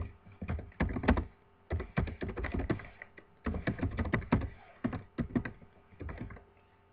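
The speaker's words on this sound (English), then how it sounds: "So I'm quite slow at typing." Typing on a computer keyboard, quick clusters of soft clicking keystrokes in uneven bursts separated by short pauses, close and fairly quiet.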